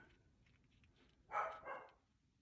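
A dog that is being dog-sat barks twice in quick succession at moderate distance, a short pair of sharp yips standing out from a quiet room with faint background noise.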